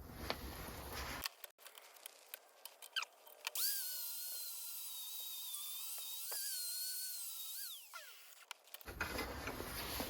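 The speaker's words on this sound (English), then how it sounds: "So because of that, we need to grind this area clean, right?" An angle grinder cleans a metal surface to bare steel ahead of stick welding, a steady high-pitched whine that runs alone for several seconds. The pitch sags and recovers as the disc bites into the work.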